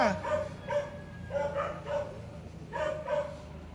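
Several dogs bark repeatedly in irregular bursts, some yips mixed in, at moderate distance with steady background noise underneath.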